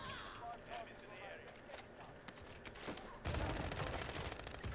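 Gunfire in Call of Duty Warzone on Rebirth Island, a burst of rapid shots from weapons such as an LC10 or MAC-10 exchanged in a multi-team fight, with louder sustained firing near the end while players talk over it.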